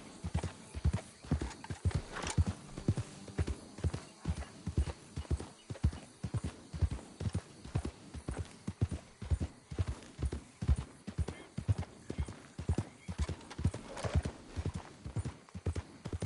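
A horse gallops steadily in Red Dead Redemption 2, its hooves drumming a fast, continuous rhythm of close thuds, with a whinny and low sounds of movement around them.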